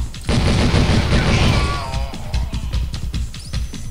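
Rapid, dense volleys of gunfire in the video game Devastation, with loud overlapping shots and bursts that are sustained throughout without pause.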